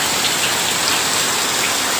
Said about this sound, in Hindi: देखो बारिश कितना हो रहा है, इतना बारिश हो रहा है ना, पूछो मत।